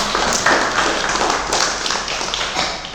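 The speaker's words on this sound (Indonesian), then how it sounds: "Tepuk tangan dulu dong buat teman-teman" A church congregation at a service claps for friends, a short burst of dense, steady applause close by.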